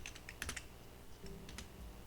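Keys clacking on a computer keyboard, a quick cluster of sharp taps followed by a few scattered strokes, close and fairly quiet with no talking.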